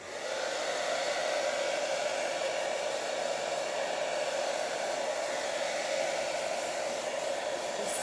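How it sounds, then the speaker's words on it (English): A hair dryer blows steadily on a magazine image transfer, a loud, continuous close-up whoosh and motor whine that holds evenly for several seconds with no speech. "Just giving it a burst with my hairdryer."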